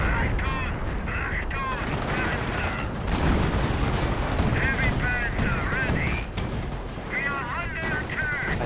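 Sustained gunfire from units in a Company of Heroes battle, with bursts of rifle and machine-gun shots crackling continuously through a dense battle din, alongside distant rumbling explosions.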